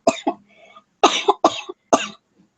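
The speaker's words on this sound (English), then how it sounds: "I'm gonna cough now." A person coughs several times in short, harsh bursts, close and clear, with brief pauses between them.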